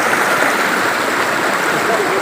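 A flowing stream rushes with a steady, close, broadband wash of water, continuous and fairly loud for the whole moment with no talk over it.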